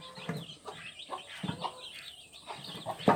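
A chicken clucks in a series of short, quiet calls at a moderate distance, with no talk over the sound.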